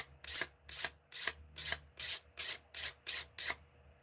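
A razor blade used as a hand scraper to put a light bevel on an edge: nine crisp, evenly spaced rasping strokes, close and clear, with no talking.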